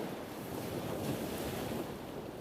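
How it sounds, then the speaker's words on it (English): Continuous ocean surf heard outdoors near a rural cabin, a broad steady wash of waves mixed with wind rumbling on the microphone, fairly close, no talking. "you can get this ocean sounds from here"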